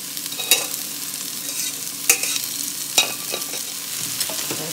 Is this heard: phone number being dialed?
no